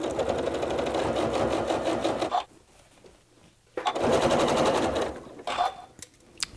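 A sewing machine stitches a quilt facing in two long bursts of rapid, steady stitching, with a quiet pause between them and brief clicks near the end.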